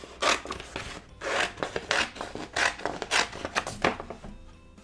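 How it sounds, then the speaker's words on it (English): Steel scissors cutting through a sheet of craft vinyl by hand, a series of rough, rasping snips in irregular bursts, close and fairly loud with no talking. "I'll just cut it manually with scissors"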